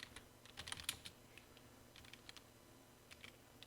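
Someone types a command on a computer keyboard while optimizing a Windows 10 PC, with irregular quick clusters of close key clicks over a quiet background.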